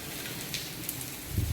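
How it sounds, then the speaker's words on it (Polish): Sudden rain falls in the Dominican Republic as a faint, continuous hiss with scattered soft drop taps, ending with a few low thumps. "Zupełnie nagle deszcz spadł."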